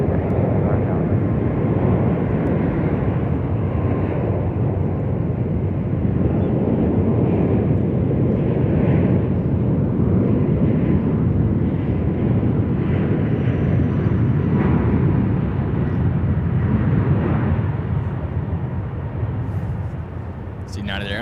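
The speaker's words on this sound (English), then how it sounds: "It's United Airlines Flight 875 off to Tokyo. This 777-200ER." United Airlines Boeing 777-200ER jet departing San Francisco International Airport for Tokyo, a loud continuous low engine rumble that stays strong throughout before fading slightly at the end.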